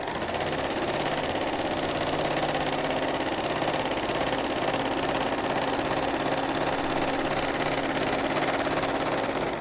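A Pfaff Hobbylock 2.5 overlock sewing machine set up for three-thread stitching runs steadily and loudly, a dense continuous mechanical whir with a fast rhythmic clatter and no pauses.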